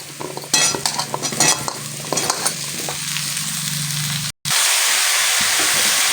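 Diced bottle gourd is stirred into cooked-down lentils in a pan: a spatula scrapes and clatters against the metal through a loud, close sizzle, then the hissing carries on steadily after a brief break.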